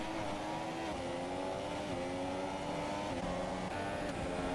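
Race cars roaring in F1 2017, an F2 league race at the United States GP, engines blending into a steady, loud, continuous drone with shifting pitch as several cars run close together in a train.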